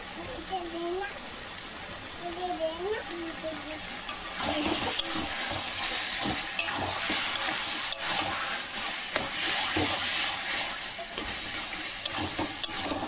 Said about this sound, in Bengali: নুন আর হলুদটাকে খুব ভালোভাবে মিশিয়ে নেব